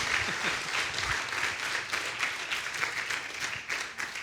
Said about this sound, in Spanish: Give that applause to the Lord.